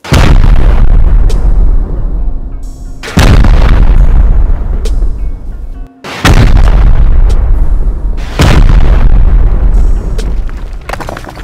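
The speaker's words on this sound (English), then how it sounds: "So we should probably rocket that out." Rocket explosions hitting a base wall during a raid in Rust, four very loud, evenly spaced booming blasts, each a sharp hit trailing into a long rumbling decay.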